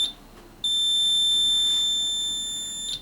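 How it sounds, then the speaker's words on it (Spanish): A continuous high-pitched electronic tone sounds from a transistor moisture sensor alarm circuit on a workbench, sustained for a few seconds at close range over faint background hiss. "en seco no me enciende mi alarma, y si yo lo uno o lo mojo es cuando va a accionar"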